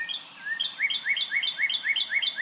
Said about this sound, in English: I actually made some of my own recordings of northern cardinals singing